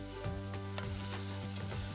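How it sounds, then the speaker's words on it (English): Ground turmeric, cumin and coriander sizzle in a hot pan, a dense, steady crackle broken by a few soft stirring scrapes. No voices. "I'm just going to put some spices in here. So we've got some turmeric, some ground cumin, and also some ground coriander as well. We're going to just let that all sizzle about"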